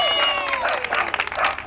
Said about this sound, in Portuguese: Salva de palmas pra Duda!